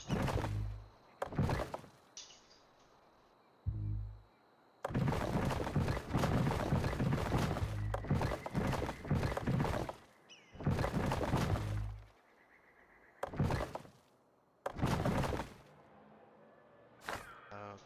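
Shacks being demolished in the video game Tropico 6: bursts of crashing, crumbling destruction noise alternating with short quiet gaps, each burst loud and a second or two long.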